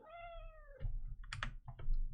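A house cat gives one drawn-out, clear meow nearby, followed by quick clicking keyboard taps. No speech.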